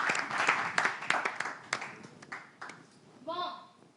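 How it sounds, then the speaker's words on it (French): Brief applause from a live audience at a semi-final show, a few seconds of scattered claps that fade out as a voice takes over near the end. "On applaudit bien plus vivement comme notre dernière candidate."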